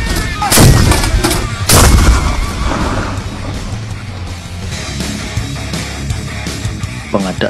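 Howitzer cannons fire in two loud, sharp blasts early on, each followed by rolling echoes, then further fainter reports and rumbling in the background.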